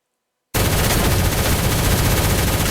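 Sustained automatic gunfire from a P90 with a muzzle attachment in the video game Shell Shockers, starting abruptly after a brief silence and continuing as a loud, dense, unbroken burst.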